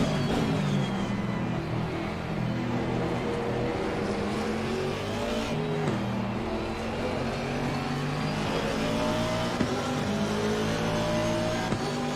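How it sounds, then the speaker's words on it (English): Race car engines in Assetto Corsa Competizione drone continuously with shifting pitch as another car closes in, a steady loud motor roar with gear changes throughout and no voice. "Oh, that car's getting close."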